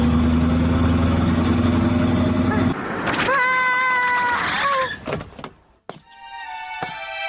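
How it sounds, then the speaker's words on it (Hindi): Cartoon cat in a Doraemon episode meows several times in a row, clear high wavering calls after an engine-like hum cuts off, with a few thunks and pauses between. "म्याऊ, म्याऊ, म्याऊ, म्याऊ।"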